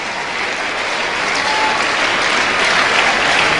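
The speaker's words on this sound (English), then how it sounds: "A round of applause, please." An audience at a church farewell service claps in sustained, dense applause that holds steady and swells slightly toward the end, with no talk over it.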